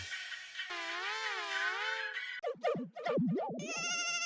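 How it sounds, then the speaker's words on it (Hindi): A phone ringtone plays an electronic melodic tone, shifting into a warbling, chirpy tune and then a bright chiming tone, loud and continuous with no voices. "फोन उठाओ"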